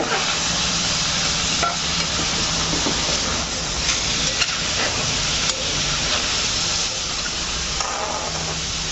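Washed mutton bones sautéed with coriander powder and masala in a pan, giving a loud continuous hissing sizzle with scraping stirs and a couple of sharp utensil clicks near the end.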